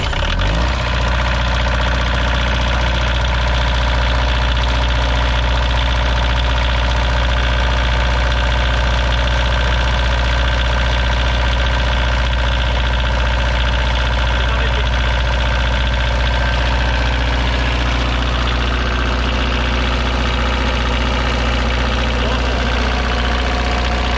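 A 1987 Prevost Le Mirage XL 40 motorhome's diesel engine idles loudly and close, a steady deep rumble with a constant low drone that starts in the first second and holds unbroken.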